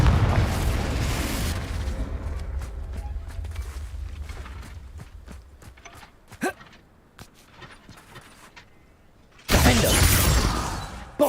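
A fire-spell blast in the Hogwarts Legacy video game: two loud, broad bursts of fiery impact, one at the start and one near the end, with fainter crackles and thuds between them.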